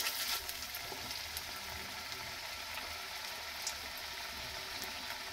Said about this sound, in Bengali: এখন কড়াইয়ে তেল গরম হয়ে গেছে, আর দিয়ে দিচ্ছি আমি